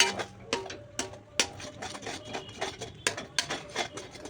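Moong dal paste stirred steadily in a cooking pot for a temple prasadam, giving repeated scraping and clinking knocks of a utensil against the metal at an uneven rhythm, close and fairly quiet.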